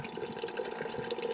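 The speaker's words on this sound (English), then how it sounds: "Fill the thermos up with water." Water pours into a thermos outdoors on a fishing trip, a short, steady bubbling gurgle that stays moderately quiet and close.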